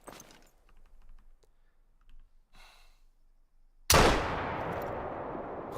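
A hunting video game rifle shot booms suddenly after quiet faint clicks and rustles, a loud close blast whose reverberating tail lingers and slowly fades.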